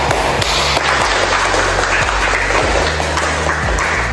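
A classroom group claps together at the end of a lesson, loud continuous applause filling the room with a few sharper individual claps.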